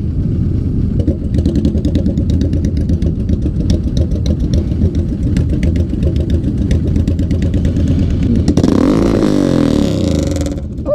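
Suzuki GS500 motorcycle engine running steadily and close, a continuous mid-pitched rumble with rattly clatter, rising in pitch near the end as it revs or pulls away.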